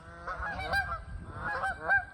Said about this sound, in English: Chasing the geese.